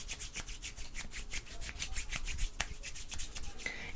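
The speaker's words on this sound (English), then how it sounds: "Let me just apply this to all over your hair. And really rub it in to the right side." Hair product rubbed into hair during an ASMR haircut, close rhythmic scratchy rubbing strokes repeating quickly and steadily with no talk.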